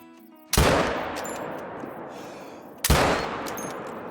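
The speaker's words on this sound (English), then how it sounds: "Perfect shots." Two loud rifle shots ring out about two seconds apart at whitetail deer in the Call of the Wild hunting game, each a sharp crack with a long rolling echo and no voices.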